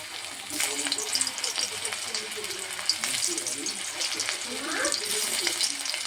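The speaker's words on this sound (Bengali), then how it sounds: "এখানে আমার তেলও গরম হয়ে গেছে বন্ধুরা। এবারে একটা একটা করে ছাড়বো।" Boiled raw green bananas drop one by one into hot oil and sizzle steadily, a continuous crackling fry with occasional spatters, close and fairly loud throughout.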